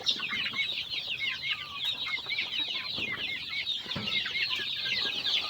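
A flock of chickens, some sick from extreme heat, clucks and chatters in a dense continuous murmur, nearby and steady, with no talking.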